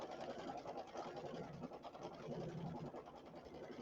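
A Brother Luminaire embroidery machine stitches a flower border, giving a steady, fast mechanical whirr and needle chatter that runs continuously and evenly at close range with no pauses.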